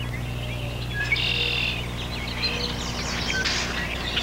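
A male songbird sings on its territory outdoors, giving short high chirping phrases in bursts over a steady low background hum, moderately distant and fairly faint.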